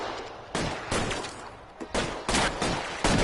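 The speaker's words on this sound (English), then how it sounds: "Wait, hold up, they shooting." Bursts of video game gunfire crackle in several clustered volleys, loud and close with short gaps between rapid shots, with no talking over them.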